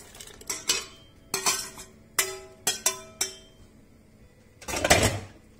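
Cooked mung beans are tipped back into a metal pressure cooker pot, giving sharp clanks and scraping knocks of a spoon against the pot in an irregular series, close by, ending in a longer clattering scrape.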